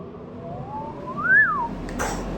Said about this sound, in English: The extractor's on the roof of here. So I'm going to put that on now. It's noisy.